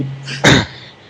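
A stifled near-sneeze into a microphone, one short loud burst of breathy noise after a brief hum, close and alone.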